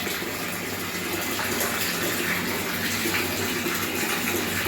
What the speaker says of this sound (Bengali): তোমাকে একটু এখন জলটা বন্ধ করে দাও ভরে গেছে